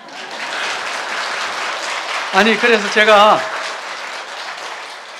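A congregation applauds during a Korean Sunday church service, giving a steady wash of many hands clapping throughout while someone briefly speaks over it midway.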